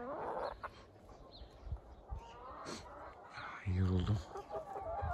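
Backyard chickens, including Sussex and other hens, cluck softly as they feed in a grassy garden, with short low clucks and scattered calls near the microphone while a person talks intermittently.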